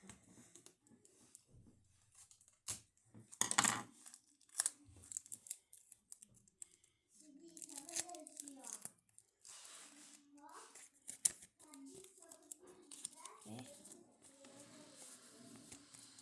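Adhesive tape is peeled, torn and pressed down during a craft project, with sharp rips and crinkly handling noises close by, while a person talks in the background.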